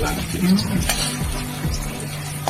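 Chhana pieces fry in a little oil, sizzling steadily while being stirred, with light clinks of a utensil against the pan close by.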